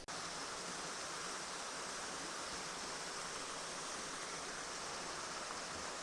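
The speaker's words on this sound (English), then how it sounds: "the Deep Creek itself has flown pretty good this morning" Deep Creek in the Great Smoky Mountains National Park flows steadily, a constant broadband rush of water filling the whole stretch at an even level with no breaks and no voices.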